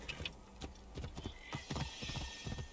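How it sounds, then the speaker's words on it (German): Horse in the video game Assassin's Creed Origins, steady clip-clop hooves trotting close by with a brief whinny, over ambient game sound and no talk. "Was war denn mit dem Pferd gerade los?"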